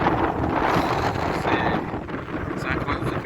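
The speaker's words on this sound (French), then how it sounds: "Et là je peux vous dire qu'il y a vraiment le vent." Strong wind blows across the microphone on a path near a forest along the Camino de Santiago, producing a steady, loud buffeting rush that swells and eases slightly.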